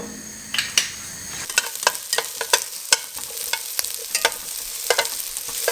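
Onions frying in extra virgin olive oil in a big pan, a steady sizzle with repeated sharp scrapes and knocks of stirring, close and fairly loud, no voices.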